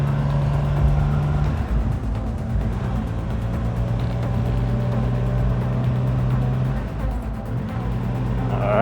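A Triumph Rocket 3 GT motorcycle rides over gravel, its engine a steady close drone with shifting tones as the pace changes, heard continuously with no talking.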